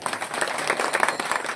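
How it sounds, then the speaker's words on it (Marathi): Audience applause at a kirtan gathering, a short dense burst of many hands clapping at moderate distance, steady throughout the brief moment with no talk over it. "या सर्वांसाठी एकदा जोरदार टाळ्या."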